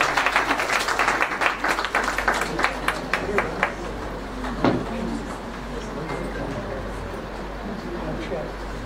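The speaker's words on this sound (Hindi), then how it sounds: "तालियों के साथ हम अभिवादन करेंगे।" An audience at a Hindi book launch event applauds in a room, sharp claps strongest at the start and then thinning into scattered clapping, with a voice speaking underneath.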